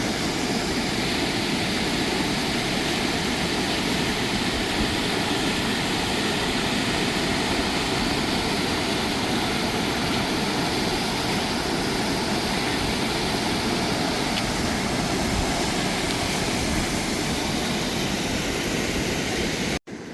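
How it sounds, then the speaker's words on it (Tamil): Water gushes hard through a breached dam that has broken a road, a loud, continuous broadband roar with no pauses. "அப்படி தண்ணி பாயுதாண்டு பார்த்தீங்களா?"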